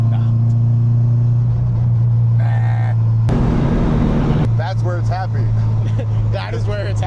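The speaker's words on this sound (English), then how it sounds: "The trans makes the least amount of noise when the wastegate's open." A cheap used Subaru WRX drones steadily as it drives, the engine and transmission humming low and loud throughout, with a shift in tone midway and someone talking over it.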